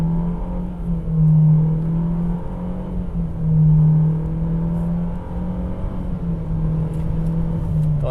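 A Renault Oroch pickup with the 1.3 TCe turbo engine accelerates from inside the cabin, a steady engine hum swelling and easing as gears change in quick succession.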